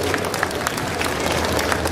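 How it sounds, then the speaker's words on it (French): An audience at a cosplay contest claps in a steady, moderately loud patter of many hands, with individual claps popping out. "Applaudissements s'il vous plaît."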